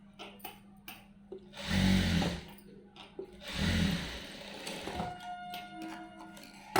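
A sewing machine stitching piping onto a blouse runs in two short whirring bursts, separated by a pause and surrounded by faint clicks and handling sounds.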